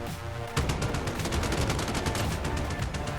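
A chopper gunner's weapon in Modern Warfare opens up after a brief pause, firing a rapid, sustained burst of loud, evenly spaced shots close by.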